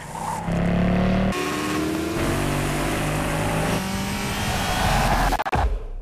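Racing car engines in the Drive Club driving simulator, revving and rising in pitch, dropping at a gear change and climbing again, loud and continuous before cutting off near the end.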